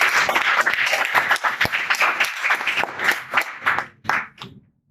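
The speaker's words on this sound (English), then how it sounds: "Can we have a round of applause for that?" Applause from a small gavel club audience after a speech, a close burst of many hands clapping that gradually thins and tapers off toward the end.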